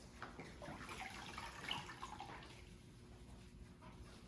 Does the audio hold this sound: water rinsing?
yes